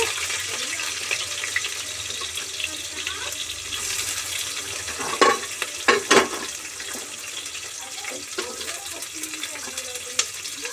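Onion frying in a pan for biryani gives a soft, continuous hiss close by, broken by a few louder clatters and scrapes around the middle.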